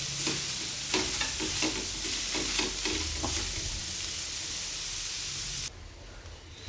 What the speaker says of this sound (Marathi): अशा पद्धतीने कांदा पूर्ण भाजायचा आहे.